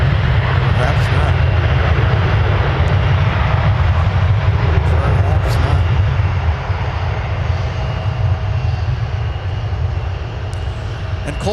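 Magma Aviation Boeing 747 at Minneapolis–Saint Paul airport, a loud continuous low engine rumble and roar filling the whole stretch, with people talking over it.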